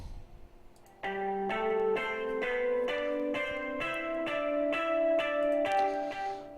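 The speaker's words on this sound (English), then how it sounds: "muted guitar which sounds like this" Hard muted guitar sound from an Ableton synth, a short looping sequence of plucked, damped notes in an even, steady rhythm, playing alone at moderate volume.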